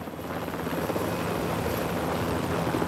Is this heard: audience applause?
no